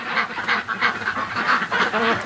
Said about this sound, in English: the Canada geese are flying over